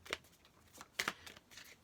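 Oracle cards are shuffled by hand in a quiet room, with several short, crisp riffling bursts spaced unevenly across the moment, close and fairly soft.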